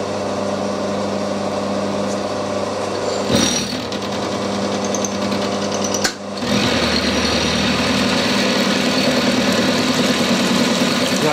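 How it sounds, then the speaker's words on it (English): Milling machine cutting steel with a smaller cutter at higher speed while machining steam locomotive parts, a loud steady whirring drone with a brief dip around the middle, then resuming evenly to the end. "Trying a smaller cutter here, running faster."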